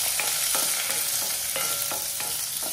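Chopped onion frying in oil with curry leaves and chana dal for poori masala, a steady broad sizzle with periodic stirring scrapes roughly every third of a second, close and continuous, no voices.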